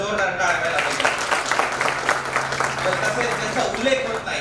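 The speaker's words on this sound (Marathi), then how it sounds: "त्यांच्यासाठी एकदा जोरदार टाळ्या वाजायला पाहिजे" Audience applause for teachers at a gathering, steady clapping that runs the whole time with voices mixed in over it.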